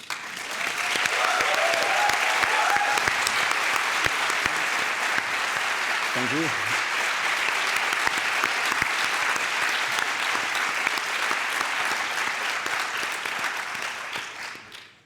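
Sustained applause from a graduation ceremony audience for a faculty member who stands, steady and full for about fifteen seconds before fading out, with a brief spoken thank-you partway through.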